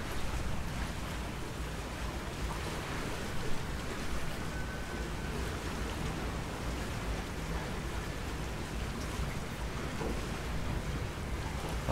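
Small boats bob on waves stirred up near a passing container ship and barge, a steady wash of water and wind noise across the whole stretch, with no clear individual splashes standing out.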